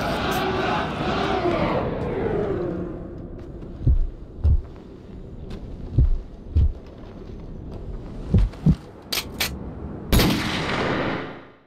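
Sharp gunshots from a close-range execution in a Call of Duty game, several loud isolated bangs spaced a second or two apart after a fading aircraft-like roar, ending in a final blast, with a voice talking over parts.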